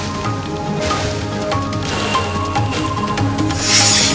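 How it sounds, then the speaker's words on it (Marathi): Heavy monsoon rain pours over Mumbai in a steady, dense hiss that holds at an even level throughout, with a constant tonal layer running beneath it. "मुंबईत मुसळधार पाऊस सुरू आहे"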